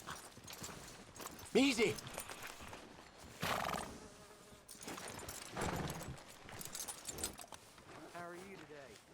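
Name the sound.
horse neighing and hooves, from video game Red Dead Redemption 2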